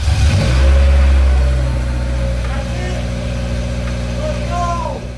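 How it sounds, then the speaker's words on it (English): A revived Honda S2000 engine, back to life after seven years on drained old gas with fresh spark plugs and cleaned injectors, runs close by with a loud low blip early on, then settles into a steady idle hum. "We drained 7-year-old gas out of the tank, changed the spark plugs, cleaned the injectors, and this little Honda engine came back to life"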